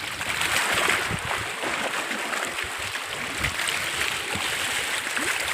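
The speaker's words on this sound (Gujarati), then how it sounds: "જો આ બ્રાહ્મણી ડેમનું પાણી કેવું ઉકરા નાખે" Water churns and gushes at the Brahmani dam in a steady, loud, continuous roar of turbulent flow that holds level throughout, with no voices over it.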